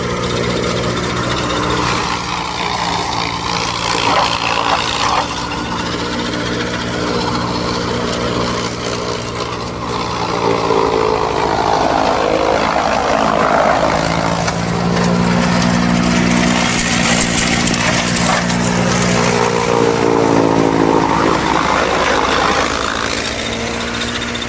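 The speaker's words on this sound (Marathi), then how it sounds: "थोडा मशीनचा आणि ट्रॅक्टरचा आवाज खूप येतात" A farm chaff cutter for making cattle silage running together with a tractor, a loud steady mechanical drone with churning grinding texture and shifting engine tones that continues throughout with no voices.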